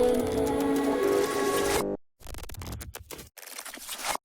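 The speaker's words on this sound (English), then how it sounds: "I have some more glitches to transition from the chorus to the build." Glitch transition effects in a dance track, leading from the chorus to the build: a dense burst of music cuts out abruptly, then choppy, stuttering fragments start and stop several times.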